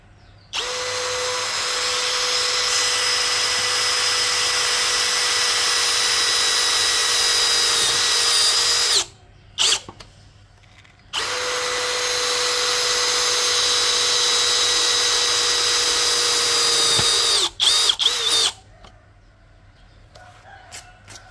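A cordless brushless impact drill bores through 4 mm thick steel, whining loud and steady in two long runs of about eight seconds each, with a short pause between them and brief stops near the end.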